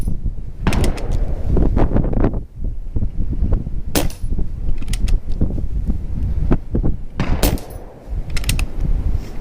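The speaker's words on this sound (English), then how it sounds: "Little shooting there." Rifle shots fired through a first focal plane scope on a windy day ring out as a series of sharp, loud reports at irregular intervals, with mechanical clicks and rustling between them.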